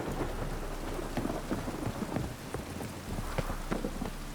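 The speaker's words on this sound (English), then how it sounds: "it only ever rains these days" Steady rain pours with rolling thunder in The Witcher 3: Wild Hunt on Skellige, a dense even downpour with scattered sharp drops and low rumbles, no talk.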